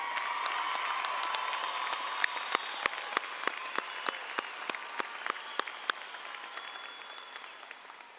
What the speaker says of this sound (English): Congratulations, graduates. You deserve a huge round of applause.